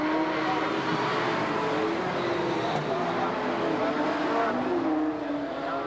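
Late model and sportsman race cars roar out of turn four during a 1990 open heat race, a dense, loud, continuous engine drone with overlapping cars and no break.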